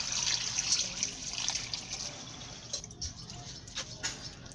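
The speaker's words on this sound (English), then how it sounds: "After slicing everything nicely, I'm going to add water." Water poured onto sliced cassava in a container, a steady trickling and splashing wash that stays fairly quiet and continuous with no voices.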